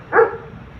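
A hungry dog nearby gives a single short bark, a brief sharp yap that fades quickly into quiet background.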